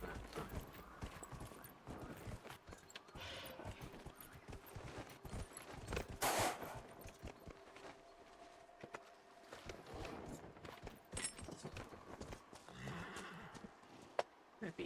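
In Dragon Age: Inquisition, a horse neighs loudly once amid irregular hoofbeats on mountain terrain, with ambient game sounds around it.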